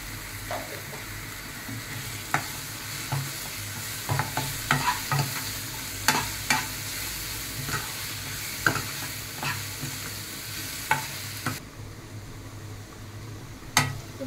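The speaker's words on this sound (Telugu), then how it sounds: "కారం కూడా ఒక 1 మినిట్ ఫ్రై అయిపోయిన తర్వాత" Chili powder fries in a pan of oil for egg curry, a steady close sizzle broken by repeated sharp scrapes and clinks of a spoon stirring against the pan, with no talking.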